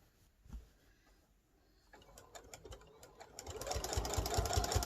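A sewing machine stitches in the ditch along black quilt binding with black thread. It starts with a few clicks and taps, then whirs into a steady, quickening run of rapid stitches that grows louder toward the end.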